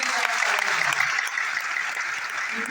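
Seated audience at a motivational seminar clapping together, a steady close wash of applause that carries on evenly and eases slightly toward the end.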